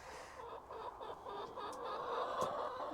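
Hens cluck and grumble inside an allotment coop built from recycled shed timber and old wood, a close, continuous chorus of overlapping clucks.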